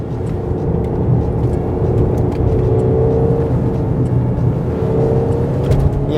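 A Mercedes-Benz GLC in Sport Plus with manual shifting pulls hard, its engine note a loud, steady drone and whir that holds through the clip with no voices.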